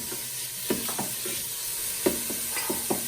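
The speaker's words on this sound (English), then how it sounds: "Let's drop that bacon in." Bacon frying in a hot Ninja Foodi pressure cooker, a steady close hiss of sizzling fat broken by a few sharp scraping stirs and pops.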